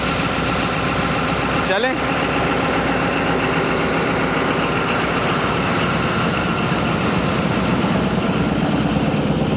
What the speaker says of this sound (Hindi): मैं आ गया था लोकोमोटिव के पास और ZCU 26402 है लीड पे